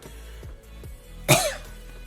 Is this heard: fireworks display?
no